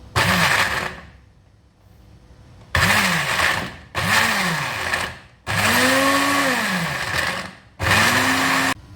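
A blender grinds spices for a jengkol dish in five loud bursts, each one spinning up with a rising whine and then cutting off, with short quiet gaps between.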